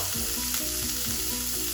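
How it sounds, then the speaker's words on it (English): Radish greens sizzle steadily in hot butter, a dense, crackling fry with a few soft stirring scrapes, close and continuous. "It's a good nice sizzle"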